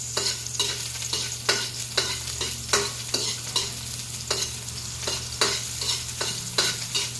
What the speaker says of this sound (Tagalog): Toast lang natin ng onti yan.